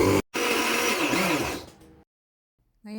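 A blender whirs loudly for under two seconds, blending a sauce of chili flakes, salt, an egg and olive oil meant for grilled sea bream, then cuts off into silence before a voice begins.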